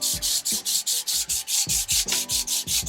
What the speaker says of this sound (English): you're just going to begin sanding both sides